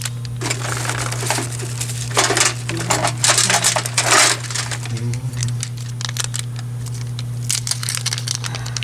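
Scissors cut through gooey tire repair plugs with repeated crunchy snips and squelching rustles over a steady background hum. The snipping comes in bursts and is close and fairly loud.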